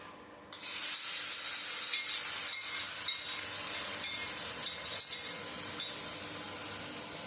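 Roasted grated carrots for gajar halwa are stirred in a hot pan, giving a continuous close-up sizzle with soft scraping strokes throughout.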